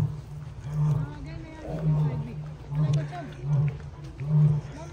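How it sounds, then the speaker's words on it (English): A zoo lion gives a run of deep, rhythmic roaring grunts, each one a low pulse repeating every second or so, heard at moderate distance while visitors talk nearby. "the lion sounds like it's upset"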